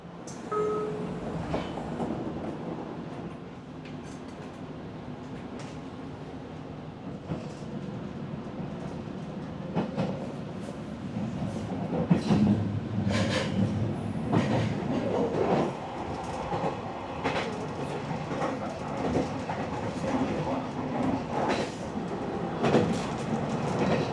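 Steady interior rumble of a train on Japan's Kagoshima Main Line, with clickety-clack from the wheels and some creaks in a side-seat commuter car, loud and continuous throughout, with no talking.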